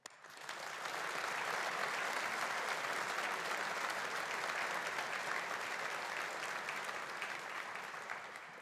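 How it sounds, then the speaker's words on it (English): An audience at a university engineering faculty graduation ceremony applauds, a steady, full round of clapping that swells quickly and holds for several seconds before tapering slightly. "let us take this opportunity to show our appreciation and gratitude with a round of applause"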